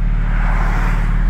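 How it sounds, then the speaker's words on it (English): Traffic rumbles on a road with a steady low engine drone and tire noise, fairly close and continuous, without voices. "cars passing"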